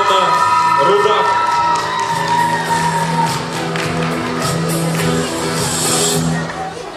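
Audience applause mixed with cheering and shouts at a 2008 children's classical dance competition, a loud continuous crowd roar with clapping, a steady tonal hum underneath and some raised voices.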